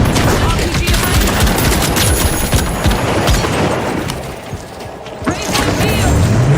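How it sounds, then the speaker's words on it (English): RPG rocket launcher fired in the video game THE FINALS, amid a dense, loud barrage of gunfire, explosions and crashing destruction, with voices shouting underneath. "RPG away."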